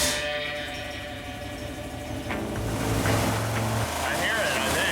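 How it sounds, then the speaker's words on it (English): A boat engine with a penny knocking around inside runs with a steady droning rumble that grows louder partway through, with water and wind noise, while people talk nearby. "That penny is taking a pounding, but the engine's still running."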